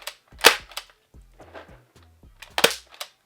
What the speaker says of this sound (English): Now let's see how fast this gel blaster shoots